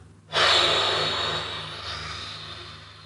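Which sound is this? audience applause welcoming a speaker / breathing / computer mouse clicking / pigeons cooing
breathing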